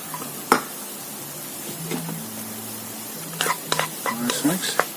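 Chilies, ginger and garlic sizzling in a hot pan in a Chinese restaurant style kitchen, a steady fry hiss with scraping stir strokes and clinks of the pan.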